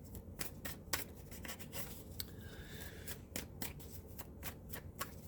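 A deck of tarot cards is shuffled by hand, with fingers scraping the cards in quick, rhythmic riffles and snaps that repeat steadily, close and fairly quiet.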